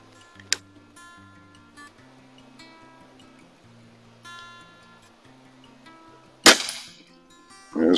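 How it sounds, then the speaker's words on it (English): A Feinwerkbau air rifle fires during indoor target plinking: one sharp snap near the start, then a quiet stretch with faint ticking, and a louder crack followed by a rattling impact toward the end. "first shot, bottom row, left target"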